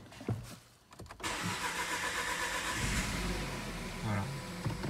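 A Renault Mégane 3 with the 1.2 TCe engine cranks briefly, catches and settles into a steady, fairly loud running note close by, with a slight rise in revs near the end.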